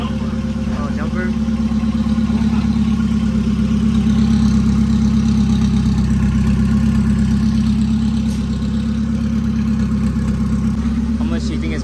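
The turbocharged GSR engine in an EG hatchback idles loud and close for about twelve seconds, a steady low rumble with slight swells, while people talk over it.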